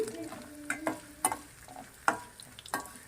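Tempering spices for a broad bean and tomato curry crackle and sizzle in hot oil with several sharp pops and a stirring scrape, close up, with no talking.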